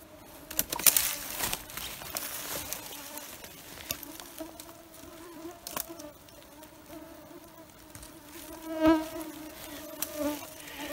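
Mosquitoes and small insects buzz around the microphone in a dense forest, faint thin whines drifting close and away, with a louder pass near the end amid light rustling.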